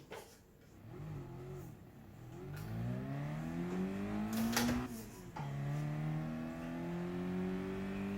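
Simulated Mazda MX5 engine in a racing game played with a Thrustmaster T-LCM pedal set, revving up through several gears with rising pitch sweeps and shift drops, moderately loud and without talk.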